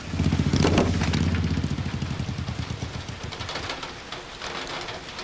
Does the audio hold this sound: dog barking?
no